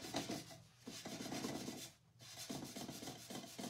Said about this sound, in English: And then we're gonna go ahead and burnish him down.